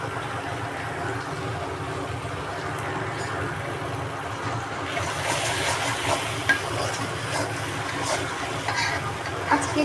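Spice masala fries in a pan at home, giving a steady close sizzle with scraping stirring strokes that grow a little louder and busier partway through.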